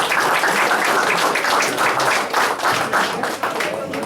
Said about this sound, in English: Round of applause for those